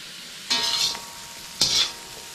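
Oil sizzling in a pan for a chicken and broccoli stir fry: two separate bursts of hissing sizzle, each about half a second long, with quiet gaps between and no talking.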